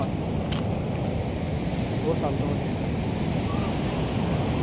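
Rough, high surf rolls in at Honnavar eco beach in Uttara Kannada during rainy weather, a steady wash of wave and wind noise that fills the clip with no breaks.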